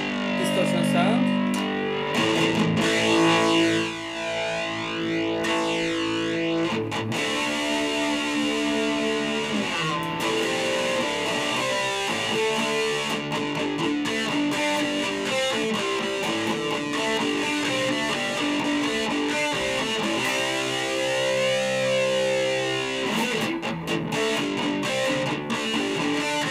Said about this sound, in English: This is a distortion sound.